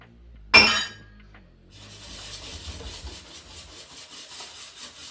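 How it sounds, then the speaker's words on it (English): Pumpkin pie filling stirred in a bowl: one sharp clink of a utensil against the bowl, then a steady, soft scraping and rubbing of stirring that continues close by. "it's just stir until you get rid of all the lumps and bumps."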